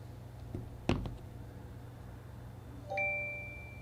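A Google Pixel 5 sounds a short bright chime as wireless charging of Pixel Buds begins, a clear tone near the end following a couple of faint handling knocks.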